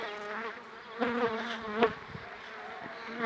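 Carpathian honey bees of the Luchkivsky type buzzing around an apiary in spring, a steady droning hum with a few louder passes of nearby bees, no talking.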